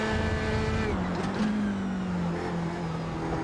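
An F3 race car engine in the iRacing video game drones loudly at high revs, its pitch dipping then climbing steadily as the throttle comes back on, continuous throughout.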